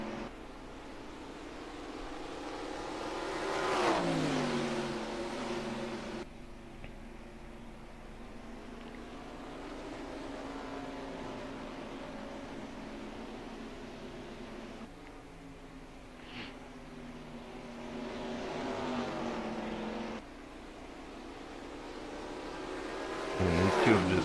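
Race trucks roar around the Nashville Fairgrounds oval in a Truck Series race, engines rising and falling in pitch as they pass, with several distinct drive-bys swelling in and fading out.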